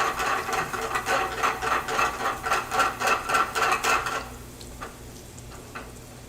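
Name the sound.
garlic sweating in melted butter in a pan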